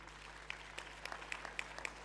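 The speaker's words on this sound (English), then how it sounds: "can you make a round of applause for our magistrate?" During a district State of the District address, an audience gives the arriving magistrate a round of applause: steady, moderately loud clapping with sharp individual claps standing out over a low background hum.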